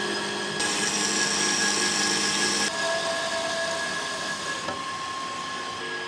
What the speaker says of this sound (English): We got a 300-pound piece about in the saw, and I'm cutting it up into 8-inch squares.